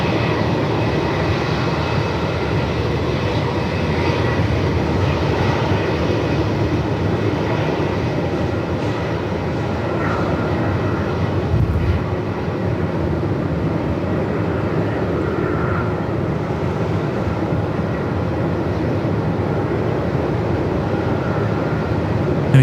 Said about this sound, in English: There we go, Sri Lankan heading off home to Colombo. The A330-300.